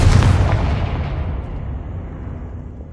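A Confringo explosion spell bursts in the Hogwarts video game, a single loud deep boom that rumbles and slowly fades out over a few seconds.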